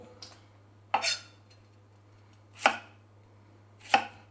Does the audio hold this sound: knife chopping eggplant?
yes